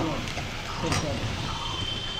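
Potato pieces hit hot mustard-style spice paste and oil in a pan for a vegetarian aloo dum, giving a steady, close, crackling sizzle that fills the whole stretch, with faint voice-like sounds underneath.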